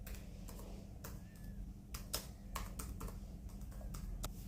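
Someone types on a computer keyboard while entering details into a clinic account setup form, producing quiet, irregular bursts of key clicks over a low steady hum.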